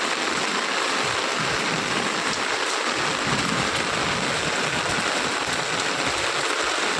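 Water pours and gushes steadily from a drainpipe in heavy rain in Chandigarh, a constant rushing splash close by with no voices.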